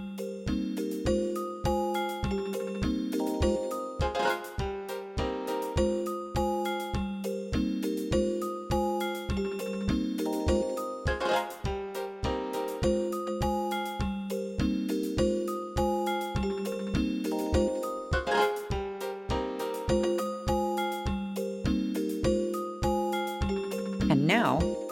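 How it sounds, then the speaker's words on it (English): Synth bell notes play a repeating melodic pattern from a MIDI step sequencer, each tone carrying a short eighth-note echo, steady and rhythmic at moderate volume throughout. "I'll add an echo feed randomization and set a short 1/8 echo for the bell instrument."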